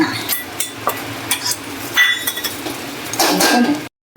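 A utensil clanks and scrapes against a pan while tempered dhokla is stirred and tossed, giving irregular close metallic knocks and clinks over a faint background, then a sudden cut to silence near the end.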